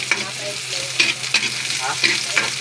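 Chicken and baguio beans sauté in a pan, a steady sizzle broken by several sharp scraping stirs at irregular intervals, close and fairly loud with no talking.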